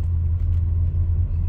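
Chevrolet Camaro RS V6 heard from inside while driving, a steady low engine and road rumble that stays loud and even throughout the short stretch, with no talking.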